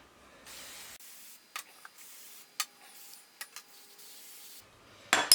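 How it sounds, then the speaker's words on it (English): A few short hissing sprays of metal protector from an aerosol can onto lathe 4-jaw chuck jaws, each a brief burst separated by quiet pauses, with a louder hiss near the end. "Give each one a spray with a metal protector."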